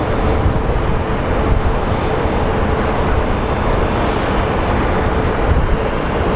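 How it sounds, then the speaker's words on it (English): An Airbus A319 airliner at Sky Harbor airport in Phoenix gives off a loud, steady broadband jet roar that holds unbroken throughout. "Alright, little A319 going to Reno."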